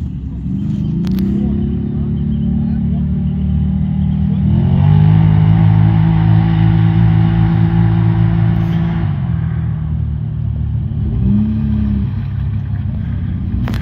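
Off-road vehicle, a large modified ZAZ, churning slowly through deep water along a riverbank, a steady loud engine drone that swells as it pushes forward, with people shouting directions over it.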